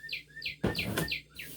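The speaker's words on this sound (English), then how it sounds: "My birds love to sing." Pet birds chirp and sing indoors in a home kitchen, repeated bright tweets in a quick rhythm, fairly close, with a brief thud of kitchen handling in the middle and no talking.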